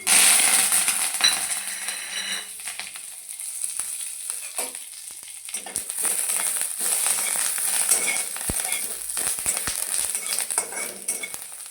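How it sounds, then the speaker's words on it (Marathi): Curry leaves roasting in hot oil for a mixed chutney give a steady, bright sizzle and crackle throughout, with occasional clinks of a utensil against the pan and a brief metallic tap near the end; no talking. "कढीपत्ता सुद्धा भाजून घेणार आहोत तेलामध्ये"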